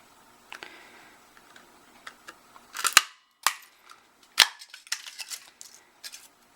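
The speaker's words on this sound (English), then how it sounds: "So I am going to use the paper punch to punch that out" A handheld paper punch snaps through stamped Shrinky Dink plastic in a series of sharp, loud clicks and clacks, with several crisp punches spaced irregularly and smaller ticks between them.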